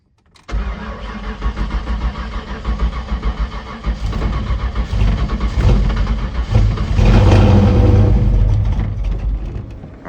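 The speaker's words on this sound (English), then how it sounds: "let's see if it's going to crank" A 1996 Ford Mustang engine, freshly swapped, cranks with a rapid chugging whir, then catches and settles into a loud, rough idle with low timing that swells louder toward the end.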